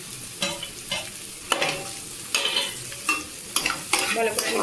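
Previously fried ingredients for Maggi noodles are stirred in a hot pan. A spatula scrapes and clatters in repeated, rhythmic strokes over a steady sizzle, close and fairly loud with no voices.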